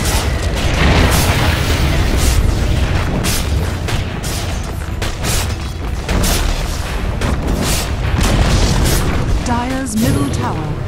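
A Dota 2 tower collapses under a thick barrage of booming blasts and impacts in a match, loud and continuous, while a voice speaks over the battle noise.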